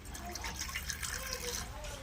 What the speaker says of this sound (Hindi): थोड़ा सा पानी फिर से डालेंगे हम टिफिन में इस तरह से